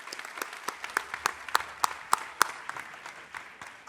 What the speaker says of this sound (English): one last round of applause for everybody, for yourselves, and for everybody here today.